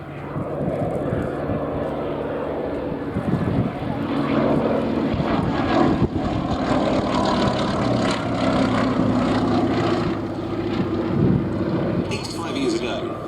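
A Westland Lysander propeller aircraft flies past at the Shuttleworth airshow, its radial engine droning loud and steady for several seconds while a commentator talks over it.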